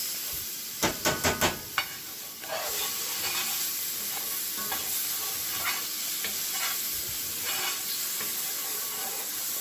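Spices sizzle steadily in hot oil for a Jamaican-Indian fusion curry, opening with a quick run of sharp clinks or taps before settling into a continuous close frying hiss with occasional small pops.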